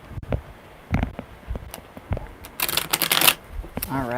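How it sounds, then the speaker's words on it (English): Tarot cards shuffled by hand during a live reading, giving bursts of riffling, slapping card noise that build to a dense flurry near the end, with a voice speaking between the shuffles. "I like that shuffle."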